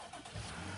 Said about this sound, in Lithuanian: Tai cold startas.